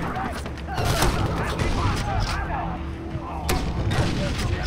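Gunfire in the video game Far Cry 3, a string of sharp shots and bursts cracking repeatedly over a dense background of in-game ambience, loud and close throughout.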